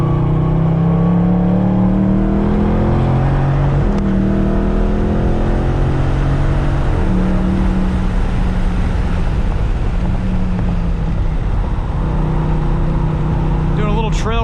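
A 2019 Dodge Charger Scat Pack laps Gingerman Raceway, its engine droning and rising and falling through repeated revs and shifts, loud and steady from inside the car, with wind noise and a voice talking over it.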